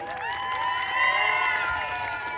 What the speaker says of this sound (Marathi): त्यांनी एकदा जोरदार टाळ्या आणि चेअरअप करायचं आहे